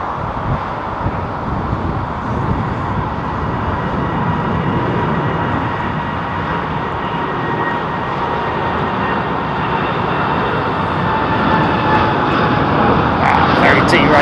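Airliner with Rolls-Royce Trent engines taking off on a derated departure at London Heathrow, a loud, continuous engine roar and rumble that holds steady for about fourteen seconds, with a voice talking over it.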